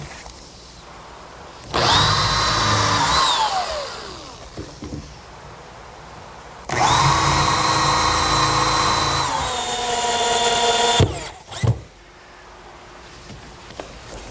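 A power drill drives screws into the center cleat of a wooden picnic table, two long loud bursts of whirring with pitch sweeps as each screw seats, separated by quieter pauses and a short final burst.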